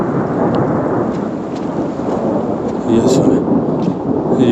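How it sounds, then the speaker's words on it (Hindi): A thunderstorm breaks over the Katora Lake trek in Pakistan: heavy rain hisses steadily while deep thunder rumbles underneath and swells louder toward the end, and a voice briefly speaks. "ये जनाब देखें कि बारिश आ चुकी है फिर"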